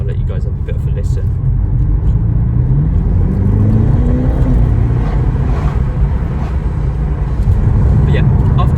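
A 2022 BMW M8 Competition coupé with a 4.4-litre engine drones steadily from inside the cabin, a loud, low engine hum with a gently rising tone midway under continuous road noise.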